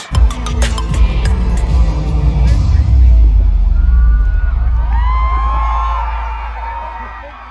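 Hysterical, enthusiastic fans scream and cheer at a concert on the HITC stage in Los Angeles, a loud, dense crowd roar that builds and holds with shrill whoops rising above it.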